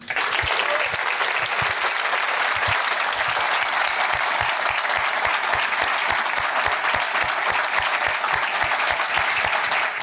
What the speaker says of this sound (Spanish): Para ellos, un fuerte aplauso.